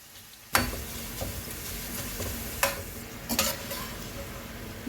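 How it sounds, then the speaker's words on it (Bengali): Potato shreds frying in hot oil for crisp aloo jhuri bhaja, a steady close sizzle with occasional sharper crackles and a few stirring clanks, no one speaking. "ওই একই রকম বাকি আলুগুলো তেলে ভেজে নেব।"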